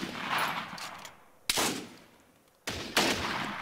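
Bursts of rifle fire crack in a military video game: a long rattling volley, a sharp shot, then two more close, loud bursts separated by brief lulls, with no voices.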